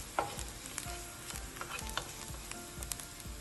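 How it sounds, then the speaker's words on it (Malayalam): Steady, faint sizzling of frying in ghee for goat leg and goat head soup, broken by soft, irregular stirring scrapes and taps against the pan, with no one speaking. "ഇത് നല്ലപോലെ വതക്കിയ ശേഷം നെയ്യിലാണ് വതക്കുന്നത്."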